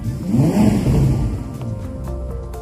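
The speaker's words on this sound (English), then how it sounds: "This connection starts as soon as you sit in the car and start the engine." A 2021 Ferrari SP90 Spider, a 1000 hp supercar, catches with a deep rumble, then settles into a steady idle; a few faint clicks sound near the end.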